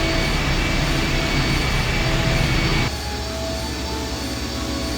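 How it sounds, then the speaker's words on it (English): Jet engine in the I Have No Mouth and I Must Scream game, a loud sustained turbine roar with a heavy low rumble that abruptly shifts to a slightly lighter, steady whine partway through, with no talk. "The engine's starting up again."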